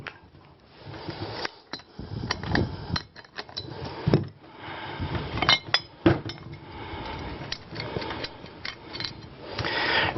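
Metal tools clinking and scraping against a relief valve seat flange while its three bolts are removed, producing irregular clanks, taps and rattles close by, with no one talking.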